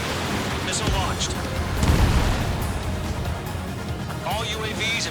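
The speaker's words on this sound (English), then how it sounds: "Missile launched." Missile launch in the Ace Combat 7 combat flight game, a swelling whoosh and rumble rising around the middle over a dense roar of jet engines and explosions, with radio chatter voices running throughout.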